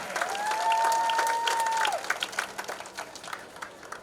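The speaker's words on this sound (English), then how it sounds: "A nice round of applause for number 72, Cole Bryan." Crowd applause for a football player at a Guntersville High School football event, steady clapping over several seconds with a faint sustained tone near the start, thinning toward the end.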